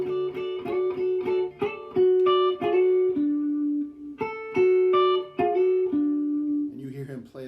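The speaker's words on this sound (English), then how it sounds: "he'll arpeggiate those notes and get a sound like this" Electric guitar playing an arpeggiated blues riff in a classic slide-blues style, clear picked notes rolling across the strings in a repeating pattern, close and alone.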